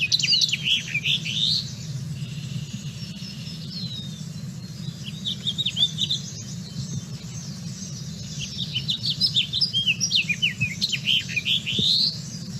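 Fast, finch-like birdsong in bursts of rapid high twittering notes, fairly close, with pauses between phrases over a steady low rumble and faint insect buzz.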